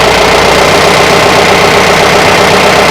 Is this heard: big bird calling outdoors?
no